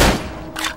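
A single loud gunshot in the horror video game Cry of Fear, a sharp blast at the start that decays into a ringing tail, followed by a brief softer burst of noise near the end; no talking.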